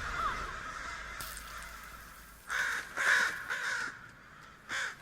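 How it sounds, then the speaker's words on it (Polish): Crows caw repeatedly over a low ambient bed in the video game Death Stranding, several harsh calls in quick succession toward the end, moderately loud against rain-like background hiss. "Za dużo coś tych ptaków."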